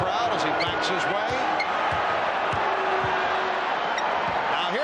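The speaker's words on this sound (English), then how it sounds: "Hearing it from the crowd as he backs his way." Crowd noise roars steadily in a basketball arena during Game 4 of the 1993 NBA Finals, Chicago Bulls against Phoenix Suns, with sneaker squeaks and ball bounces under constant talk.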